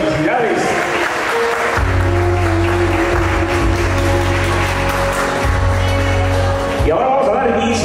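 Wedding guests applauding at a reception, a broad patter of clapping that runs through the whole stretch beneath a voice speaking and sustained background music.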